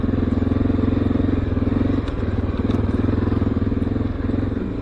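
A Honda XR650L motorcycle rumbles steadily up close on a wet, rocky trail, its engine droning throughout with clattering and splashing over the stones and a slight dip in loudness partway through.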